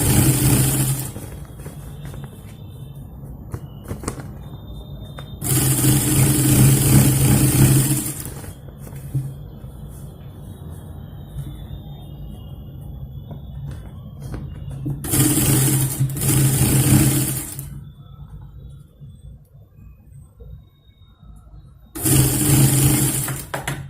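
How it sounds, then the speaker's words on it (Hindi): A sewing machine runs in loud, close bursts while stitching three layers of fabric for a small Krishna outfit, with three or four separate runs of a few seconds each and quieter handling gaps between them. "आपको सिलाई करते वक्त ध्यान रखना होगा, ये तीनों फैब्रिक है, उसको साथ में ही सिलना है।"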